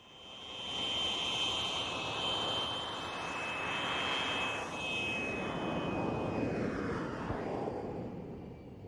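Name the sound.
F-86 jet fighter flying at an air show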